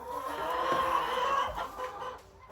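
Farm chickens grumble and cluck in a low, continuous muttering chorus, close by and moderately loud, with a few louder clucks rising from the flock.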